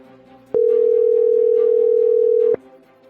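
A single steady electronic tone from a phone call failing to connect sounds for about two seconds, loud and even, then stops abruptly over a faint background hum.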